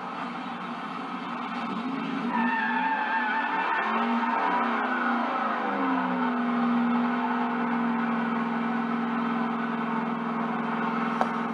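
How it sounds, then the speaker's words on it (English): A 1957 Chevy with a 454 tunnel ram and 671 blower burns rubber behind a parts store, giving a loud, sustained engine roar with rising and falling pitch and a steady tire squeal that holds for over eleven seconds. "So he let me burn rubber with it"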